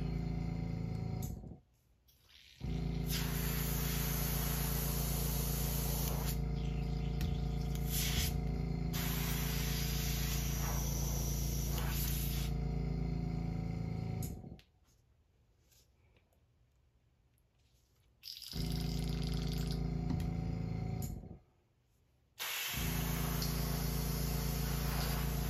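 An airbrush sprays gold paint onto a swim bait in long, steady hissing bursts separated by short silent pauses.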